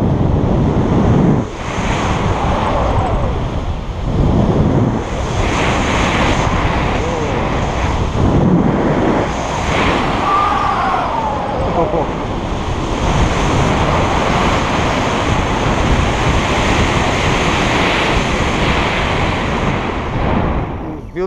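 Strong wind blowing during a paragliding flight, a loud continuous roar of air rushing past the microphone with faint voices briefly audible beneath it.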